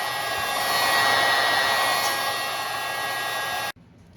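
A heat gun blows steadily on a Polaris Sportsman 500 ATV water pump housing in a cold garage, a loud continuous whooshing roar that cuts off abruptly near the end.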